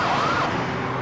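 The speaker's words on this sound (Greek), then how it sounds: "φτάνουν τα πρώτα πυροσβεστικά οχήματα και ασθενοφόρα." Sirens of fire engines and ambulances arriving at a burning bus on a road during a hooligan attack, with a loud, close, wavering siren tone over a dense rumble of traffic and noise.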